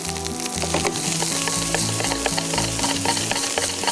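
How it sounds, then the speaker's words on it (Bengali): Masala beef egg fried rice being stir-fried in a pan gives a loud, close, continuous sizzle with repeated scraping stirs throughout. A low melodic backing, likely music, sits underneath. "এই ভাজা ভাজাটাই হচ্ছে ফ্রাইড রাইসের মূল জিনিস"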